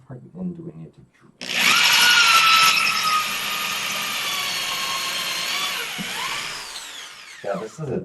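After a few spoken words, a high-pitched power drill screams into a wall with wood behind it, its motor sagging under load before winding down as a voice returns.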